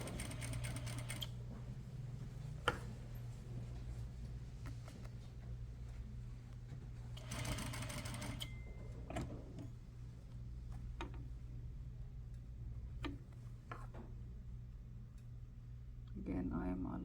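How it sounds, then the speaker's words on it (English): A sewing machine stitches a set-in sleeve at a half-inch seam allowance, its steady motor hum running under a person talking throughout, with a couple of louder bursts of activity. "Again, I am aligning my edges and stitching at 1/2 inch."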